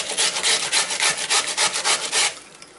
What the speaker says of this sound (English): after I finish the onion, I'm going to grate the garlic cloves